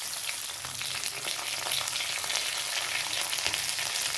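Red chillies and curry leaves frying in hot oil for a kala chana guggillu, a steady close crackling sizzle with scattered sharp pops and a faint stirring scrape.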